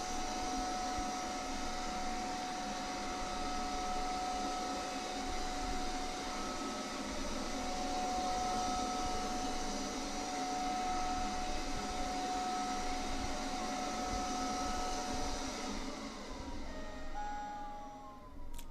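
Eureka Forbes Robo Vac N Mop robot vacuum with UV sanitization running, a steady close whirring motor hum with thin tonal whine, continuous at even level before cutting off near the end.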